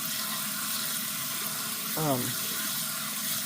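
Tap water runs steadily into a kitchen sink while beans are rinsed, a continuous gushing wash with a brief gurgling shift midway and no talk over it.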